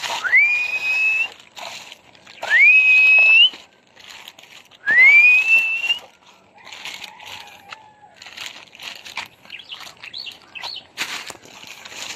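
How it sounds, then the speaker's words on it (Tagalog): Three loud rising whistles, each sliding up and holding steady, repeat at regular intervals outdoors, followed by quieter rustling, wind and scattered faint noises. "Sipol ulit."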